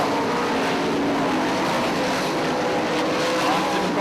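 410 sprint cars race at 34 Raceway, a steady loud roar of engines near and far blending into one continuous drone.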